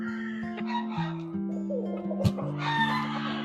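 A broodstag and pullet clucking and calling close by, several overlapping bird voices in a busy, steady chatter with a brief sharp squawk partway through.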